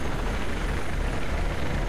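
A helicopter in the video game Battlefield 3 gives a steady, loud, dense rotor and engine roar that fills the whole moment without a break.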